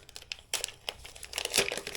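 Plastic packaging bag for a DJI Mic Mini wireless lavalier microphone kit crinkles and rustles in the hands during unboxing, close and fairly loud, with sharper crackling bursts toward the end.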